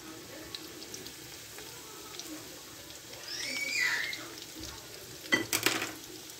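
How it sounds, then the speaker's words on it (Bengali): Tuna fish kebabs fry in an oiled pan with a soft, steady sizzle, followed near the end by a couple of brief clinks of a utensil against the pan. "এখন অপেক্ষা করব যতক্ষণ না পর্যন্ত ব্রাউন কালার আসে, ভেজে নেব।"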